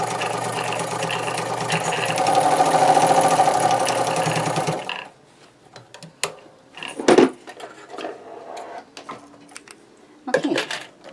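A sewing machine stitching a shirt skirt whirs in a steady, loud continuous run for several seconds, then stops, followed by scattered handling clicks and light rustling up close.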